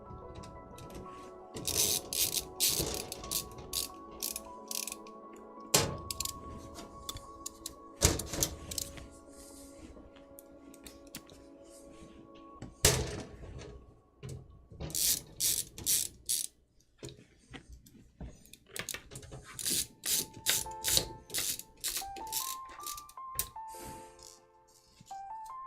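Screws being driven into the thin sheet-metal panels of a Bambu Lab P1P 3D printer, heard as bursts of ratcheting, whirring driver runs separated by short pauses, fairly close and alone.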